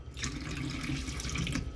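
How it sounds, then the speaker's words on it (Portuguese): Tap water runs from a faucet into a glass in a steady, close, bright stream that fills the whole stretch, with no talking. "largar a água da, da torneira dentro do copo"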